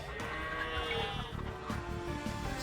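Sheep bleat in Age of Empires II, a few wavering calls layered over continuous in-game ambience and music, with faint talk in the background.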